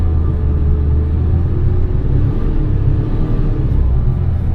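A Suzuki Jimny JB23W with a small turbo engine drones and rumbles steadily while revving off-road, loud and close, with a dense low growl throughout and no talk.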